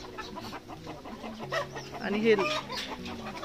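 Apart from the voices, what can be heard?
hen clucking in hollow of fig tree trunk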